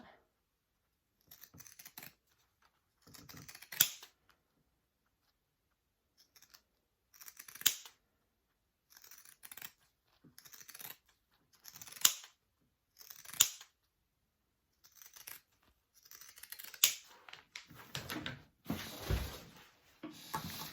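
Scissors snip through fabric while a tote bag is trimmed, sounding as a series of close, separate cuts spaced a few seconds apart and then coming in quicker bursts near the end, with no talking.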